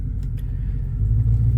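A pickup truck with a BTR Norris NSR cam and stock converter rumbles along at low speed, its deep exhaust burble steady and close for a brief moment.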